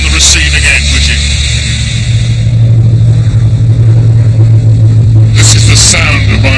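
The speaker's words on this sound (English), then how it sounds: "These big engines coming over our village in Oxfordshire" Big piston engines of an Avro Lancaster bomber drone overhead above an Oxfordshire village, a loud continuous rumble with steady low tones that swell in the middle, heard up close with wind buffeting and no talking.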